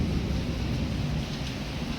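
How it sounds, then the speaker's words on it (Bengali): Heavy rain pouring steadily during a thunderstorm, a dense continuous wash of rainfall with low rumbling thunder underneath, loud and close with no voices. "একটা থান্ডারিং হচ্ছে ফ্ল্যাশিং হচ্ছে"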